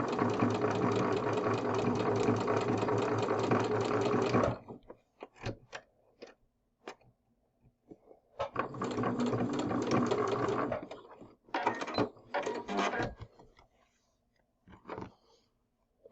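Sewing machine stitching a half square triangle quilt block, running in two steady bursts of fast, even needle chatter separated by pauses with light handling clicks and fabric rustle.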